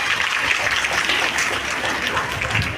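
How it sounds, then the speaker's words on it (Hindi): Audience at a BJP women's wing Mangalagauri gathering in Nagpur clapping to bless the government, a steady, dense wash of applause held at even loudness throughout, with no break. "जरा तालियां बजाकर उनको आशीर्वाद करें"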